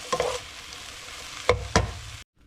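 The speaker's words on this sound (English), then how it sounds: "I'm gonna take this out of the pan and I'm gonna add the pasta back into the pan" Chicken spaghetti stir fry in a pan gives a soft, steady sizzle with a few sharp scraping stirs near the end as pasta goes back in, then the sound cuts off.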